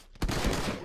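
A short, loud burst of rapid gunfire in Project Nexus cuts in sharply after a brief quiet moment and stays dense and close until the end.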